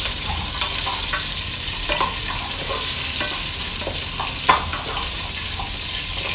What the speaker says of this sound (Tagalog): Pwede na natin ihulog ang sibuyas. Saka yung pamintang buo.